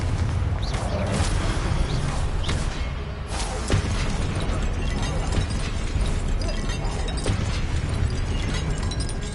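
Confringo fire spells burst in Hogwarts Legacy amid continuous dense crackling and rumbling blasts, loud and steady throughout with little pause.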